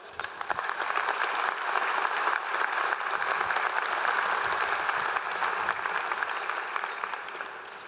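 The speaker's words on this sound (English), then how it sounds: "So would you please give them a round of applause?" Sustained crowd applause at a university commencement ceremony, a dense steady patter of many hands clapping at full strength throughout, easing slightly toward the end.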